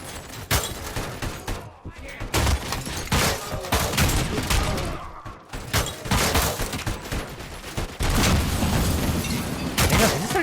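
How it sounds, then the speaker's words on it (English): Enemy gunfire in the video game RoboCop: Rogue City, with dense, loud, near-continuous rapid shots and heavy booms that barely let up. "Oh, he does start shooting at me!"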